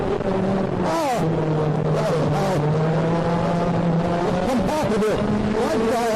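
Formula Blue racing karts on the Forest Edge track hold a steady, loud, buzzing engine drone, with pitch rising and falling as they climb a hill, while a race commentator talks over them.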